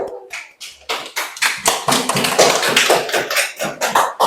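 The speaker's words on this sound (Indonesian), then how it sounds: "Tepuk tangan." Pupils in a classroom clap their hands together in a lively, rhythmic pattern, the sharp claps close and loud in quick, uneven bursts without pause.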